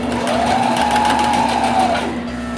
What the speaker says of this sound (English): So I'm gonna go ahead and sew all of these closed here.